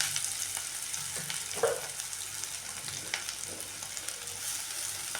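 Spring onion greens tossed into onions frying in a pan, a steady low sizzle with a brief stirring clatter and faint scrapes, no one talking.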